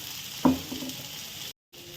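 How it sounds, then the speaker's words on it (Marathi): Cabbage vadi pieces shallow-fry in oil on a tawa and are flipped one by one, giving a soft steady sizzle with a brief clunk of turning, then a short cut to near silence. "परत थोडं तेल टाकून घेते मी छान पलटी करून घ्यायचा एक एक"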